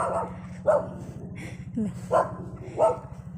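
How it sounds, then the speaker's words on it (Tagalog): A very large dog barks outdoors at dusk, giving four deep, fairly close barks spaced about half a second to a second apart over a low steady hum. "May nakasalubong asong napakalaki."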